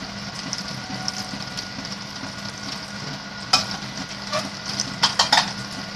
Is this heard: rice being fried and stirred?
yes